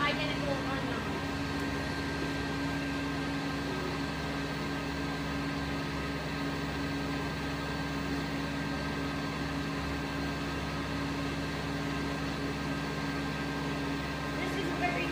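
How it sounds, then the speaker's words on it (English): Kirby Classic vacuum cleaner running with a steady, loud droning hum and constant whine throughout, unchanging and close, with no talk over it. "This is a very loud vacuum."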